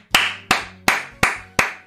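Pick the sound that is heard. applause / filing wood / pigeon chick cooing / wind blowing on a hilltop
applause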